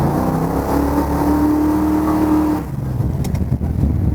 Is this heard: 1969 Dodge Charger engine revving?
yes